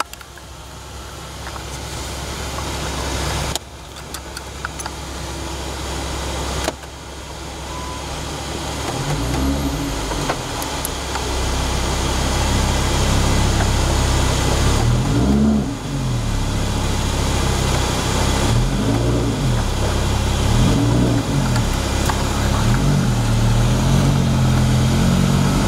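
A convertible Lamborghini with its roof lowered pulls away, the engine rising in repeated revving surges that grow louder and steadier as the car gets moving, with no talk over it.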